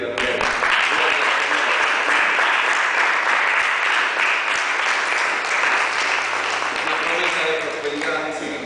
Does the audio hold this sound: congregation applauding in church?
yes